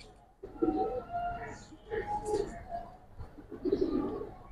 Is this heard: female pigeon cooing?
yes